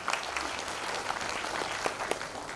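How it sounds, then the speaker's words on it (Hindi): Audience applause welcoming guests at a political party workers' meeting in a hall in Uttar Pradesh, a steady, dense clapping from a crowd that fills the whole short stretch without a break. "जोरदार ताली बजा के उनका स्वागत करिए।"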